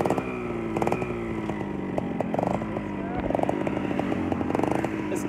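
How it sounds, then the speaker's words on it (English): A motorbike ride on a Dominican Republic road: a steady, buzzing small engine close by, rising and falling slightly as it revs, with rushing wind and road rumble throughout. "We found a motorbike."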